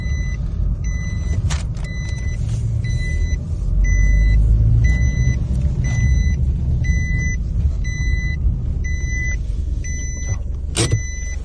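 A 2008 Nissan Qashqai's engine running in a steady, low rumble, joined by a few faint clicks and a short swell in loudness midway, with no voices.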